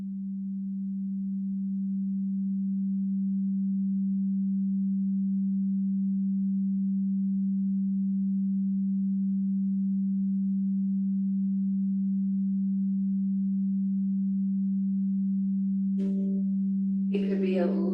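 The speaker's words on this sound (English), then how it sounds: "this is the root tone" A steady, pure low sine tone for the root chakra hums continuously and alone at even loudness, with a couple of brief faint clicks near the end.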